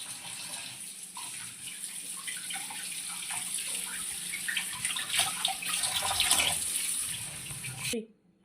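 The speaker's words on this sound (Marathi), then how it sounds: "आम्ही नळाखाली पूर्ण फिश अशी धुवून घेतलेली आहे" Running tap water pours steadily over whole fish as it is rinsed before frying, a continuous splashing rush with some clattering handling sounds and a faint voice underneath, cutting off abruptly near the end.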